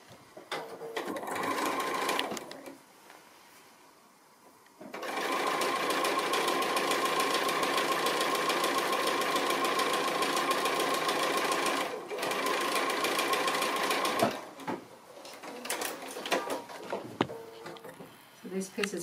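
Sewing machine stitching a quarter-inch seam on a long pin cushion, a steady close whirring run of several seconds with short pauses and restarts.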